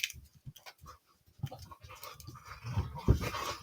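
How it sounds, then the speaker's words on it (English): Two dogs roughhousing indoors pant and scuffle close by, with soft irregular huffs and thumps that grow busier and louder toward the end. "You're going to hear my two dogs roughhousing in a second."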